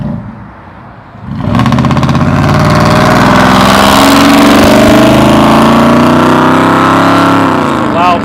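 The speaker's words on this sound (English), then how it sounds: "That was a loud truck." A loud truck engine roars up abruptly after a quiet moment and holds a heavy, rumbling drone for several seconds, very close, on a town street in Hampton, Georgia.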